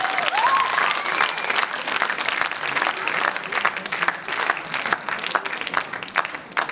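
Dense, sustained applause from a gala show audience for singers Lusine Dasyan and Artur Hovsepyan, loud and continuous with crowd noise swelling through it.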